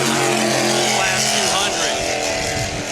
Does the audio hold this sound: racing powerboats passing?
yes